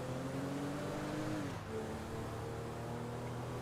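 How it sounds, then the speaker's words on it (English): Video game car engine revving steadily and loud throughout, the pitch dropping slightly midway as it shifts, with no voices over it. "See if the car still sounds like crap."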